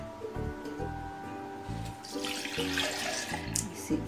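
Homemade buttermilk (chaas) poured into a mixer grinder jar, a steady liquid pour with splashing that runs for several seconds alongside some background music.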